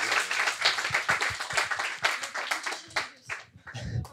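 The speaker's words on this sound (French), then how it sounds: "Si on peut les applaudir une dernière fois, merci." An audience at a café discussion event applauds its guests one last time with a short, lively round of clapping from a modest crowd that thins out toward the end.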